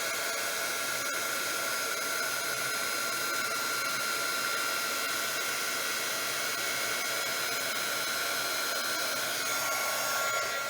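A heat gun blows steadily over a resin geode painting on canvas, a continuous hissing rush of air with a faint mechanical whine, close and even throughout with no talk.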